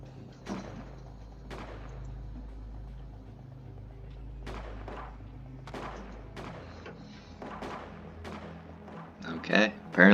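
Crew firing guns in the space colony game Space Haven, a series of separate sharp shots spaced a second or more apart, followed by a louder cluster near the end, over a low background hum.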